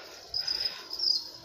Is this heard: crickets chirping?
yes